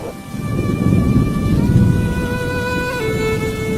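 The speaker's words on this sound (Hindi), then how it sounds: "बारिश होने लगी" Cartoon thunderstorm with heavy rain hissing continuously and low rumbling thunder swelling underneath, loud and close, alongside a sustained tonal background.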